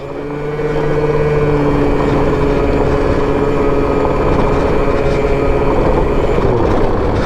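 A Malaguti Phantom F12 Digit 50 LC scooter ridden off-road on rough ground, its small engine droning loud and steady with a slight rise in pitch as it speeds up, wind and rumble mixed in.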